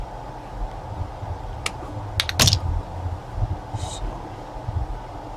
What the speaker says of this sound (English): able to strip wires with a pair of wire cutters